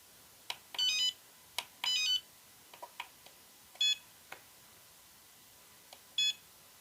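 A Flysky FS-G7P radio transmitter gives short electronic beeps while its battery alarm is set, several brief bleeps and chirps spaced irregularly among soft button clicks, close and alone.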